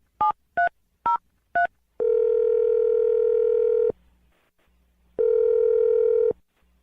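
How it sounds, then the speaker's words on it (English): Four quick telephone keypad beeps are followed by two long, steady ringback tones with a pause between, loud and clean with no voices. "We're going to dial the phone number right now"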